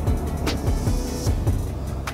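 Can-Am Ryker with a 900cc twin four-stroke engine running on the road, a steady low throbbing drone with rhythmic pulses, close and fairly loud, no talk.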